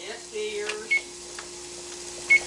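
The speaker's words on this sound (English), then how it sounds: "our carrots, the timer went off" A kitchen timer goes off while cooking, sounding two short electronic beeps about a second and a half apart over a steady background hum, with no one speaking.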